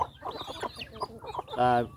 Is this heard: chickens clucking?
yes